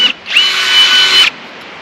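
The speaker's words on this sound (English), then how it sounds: "We're a big fan of the electric rivet gun" An electric rivet gun fastens panels of a standing seam metal roof on a barndominium, letting out one loud, close, high-pitched whirring burst of about a second, with a brief blip just before.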